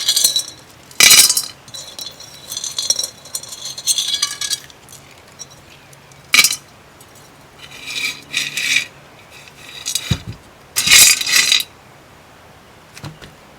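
Gravel poured into the bottom of a round glass vase comes in three loud bursts of rattling, clinking stones against glass, separated by quieter scraping and shuffling, close up and with no voices.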